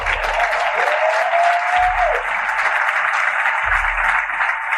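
Audience applause for a conference panel at BTA 2022, a steady, dense clapping that fills the room throughout, with a brief faint tone sliding through it midway.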